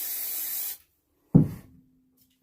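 Spray adhesive hisses out in one short, close burst onto XPS foam board, followed by silence and a soft thud.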